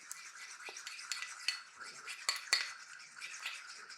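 A spoon stirs mayonnaise-based sauce in a bowl, giving quiet, close scraping and clinking taps in an irregular rhythm, with no voices.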